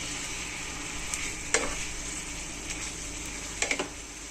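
Chicken and onions sizzle steadily in a pan for a chicken curry, with a few sharp scraping stirs of a spoon cutting through the constant frying hiss.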